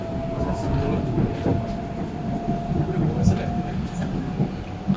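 Steady rumble and rolling hum inside an INKA CLI-225 KRL commuter train in motion, with a sustained tonal whine and faint clicks over continuous broadband noise, passengers or a voice audible at times.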